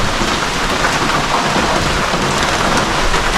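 Heavy rain pours down steadily, a loud, dense hiss of drops drumming on surfaces with no pause, and a low rumble like distant thunder underneath.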